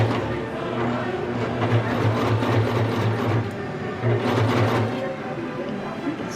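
A sewing machine stitches the side seam of a kids' raglan t-shirt held with pins, its motor whirring in steady bursts with short pauses between runs, close and fairly loud.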